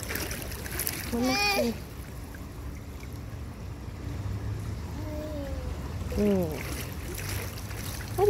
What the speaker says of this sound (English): Oh, you splash water.